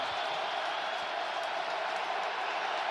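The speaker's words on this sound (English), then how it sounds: "tough communication here with the crowd noise" A steady, loud roar from a packed stadium crowd at an NFL AFC Wild Card playoff game, Las Vegas Raiders at Cincinnati Bengals, holding an even level with no breaks.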